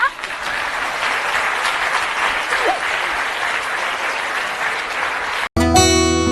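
A studio audience at a Turkish comedy show applauds steadily, a dense wash of clapping over several seconds that cuts off abruptly near the end before other sound takes over.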